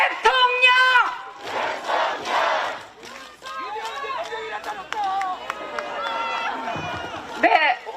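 Rally crowd at a political campaign event in Chilgok, North Gyeongbuk, roaring and chanting in loud waves, with shouted voices rising and falling close by and strong, sustained cheering.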